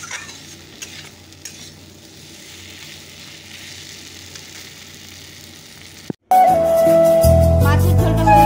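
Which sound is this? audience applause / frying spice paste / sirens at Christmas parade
frying spice paste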